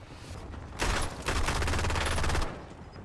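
A new submachine gun fires in Call of Duty Warzone, two close, loud automatic bursts, the second lasting over a second, with no speech.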